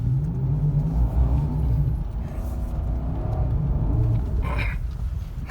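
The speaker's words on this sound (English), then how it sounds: "Burnouts in the grass." A Lexus LS tearing through grass doing burnouts, its engine a loud, steady low rumble with brief surging revs, close by and continuous throughout.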